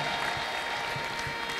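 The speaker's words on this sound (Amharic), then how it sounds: "እስቲ ለጌታ ከፋር ጭብጨባ አምጡ" A church congregation applauding together, a dense, steady wash of many hands clapping, moderately distant and continuous without voices.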